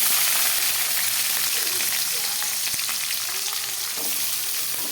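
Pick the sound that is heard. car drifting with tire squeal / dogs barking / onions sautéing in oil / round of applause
onions sautéing in oil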